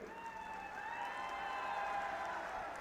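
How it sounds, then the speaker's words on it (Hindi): Dense applause from a large crowd at an outdoor political rally in Mahendragarh, steady and sustained throughout with a broad wash of clapping and faint cheering, no clear speech over it. "अभी आपने जल्दी ताली बजा दी"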